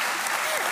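Applause from a studio audience on a German TV cooking show, a short dense patter of clapping heard alone at steady loudness.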